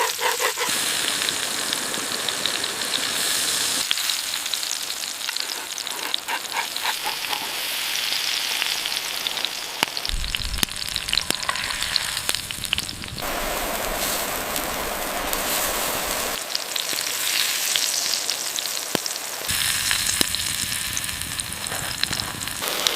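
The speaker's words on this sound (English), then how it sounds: "Listen to that sizzle." A beef burger patty sizzles and crackles in a ripping-hot cast iron skillet over an outdoor woodland cooking setup, a loud continuous frying hiss that swells and shifts in intensity throughout, with no voices.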